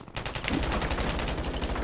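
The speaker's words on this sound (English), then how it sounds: "Look where all the gunfire's been." Rapid automatic gunfire in a video game battle, a steady rattling burst of evenly spaced shots that starts abruptly and keeps going, loud and close with no talk.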